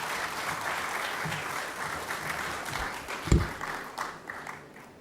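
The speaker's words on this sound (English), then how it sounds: "Please, a round of applause for Ms. Holder." An audience applauds at the opening ceremony and Hall of Fame induction of the CBU 56th AGA, with steady dense clapping throughout and a few louder claps near the middle.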